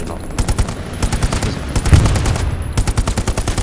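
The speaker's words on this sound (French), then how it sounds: "Je me prends des tirs." Rapid automatic gunfire from the WWII shooter game Hell Let Loose, loud and close, with sustained machine-gun bursts broken by brief pauses and echoing shots in a chaotic firefight.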